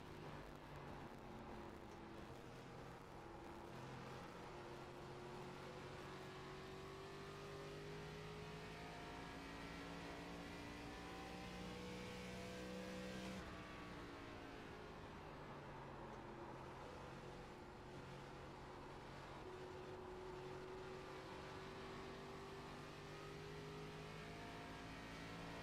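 ARCA race cars lapping Phoenix Raceway in a racing game: a faint but continuous engine whine that climbs in pitch, drops sharply midway as the car shifts or brakes, then builds again.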